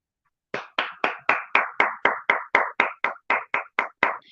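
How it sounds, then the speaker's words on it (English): A steady run of about fifteen evenly spaced, crisp claps in unison, loud and close, rising from silence and continuing to the end with no talking. "give yourself a round of applause"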